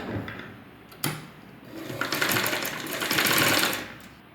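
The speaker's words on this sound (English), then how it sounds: "Fold the cross piece and make the top stitch over here." A sewing machine runs close by as it top-stitches a sleeveless armhole, starting with a sharp click and then settling into a steady whirring stitch that grows louder and holds near the end, with no voices.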